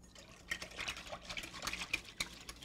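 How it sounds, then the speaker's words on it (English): A small whisk stirs maltitol into a milk blend, soft liquid swishes and light clinks against the bowl in irregular strokes, quiet and close. "just grab yourself a little whisk, make sure that maltitol gets nice and incorporated"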